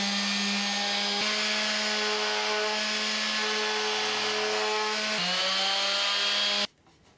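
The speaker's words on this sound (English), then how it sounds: "I am done sanding this," A power sander works a wooden longboard deck with coarse sandpaper, a loud steady whine that dips briefly twice before cutting out abruptly near the end.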